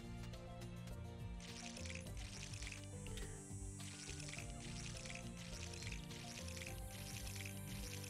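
Watering crops with a watering can in the farming game Monster Harvest: repeated bursts of a light splashing, dripping water effect under continuous loud game music.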